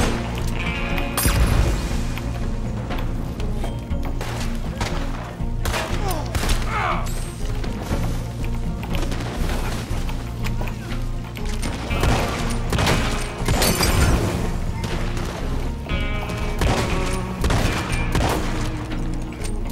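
Gunfire in a Red Dead Redemption-style western video game crackles in repeated bursts of shots and heavy booms across the whole span, with a player's voice heard at times.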